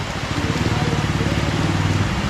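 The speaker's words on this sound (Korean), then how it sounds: "비 오는데" Steady rain falling on a Korean street, a dense, even hiss with a low rumble of passing traffic underneath.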